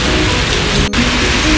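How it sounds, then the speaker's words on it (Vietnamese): Heavy rain pours steadily during a walk in Singapore, a dense, loud, continuous hiss of drops on surfaces with no distinct thunderclap standing out. "hôm nay mưa to"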